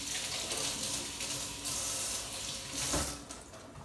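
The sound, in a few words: tap water running over fennel being washed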